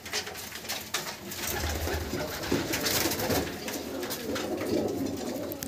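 Madras pigeons coo steadily in a breeding loft, a low, throaty, continuous murmur of several birds nearby.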